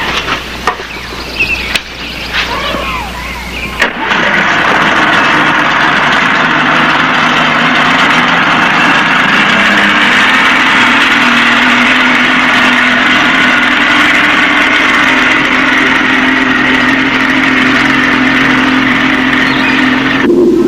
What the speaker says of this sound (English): Now you start your engine.